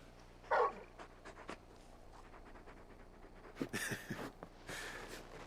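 A large dog companion in the video game Final Fantasy XVI pants and snuffles softly through a game soundscape, with a brief whimper-like sound early and a few louder rustling bursts later.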